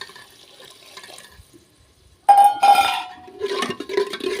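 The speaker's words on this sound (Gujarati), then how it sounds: "હવે નાખી દઈએ પાણી થોડું" Water splashes and trickles into a pot of vegetable curry with red chili powder for a few seconds, loud and close, after a quiet stretch with faint clinking.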